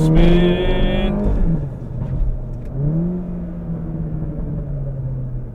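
A 300 WHP Volkswagen MK7 GTI pulling hard from first gear, its engine note climbing quickly, dropping at a gear change, then rising again in a steady loud in-cabin drone.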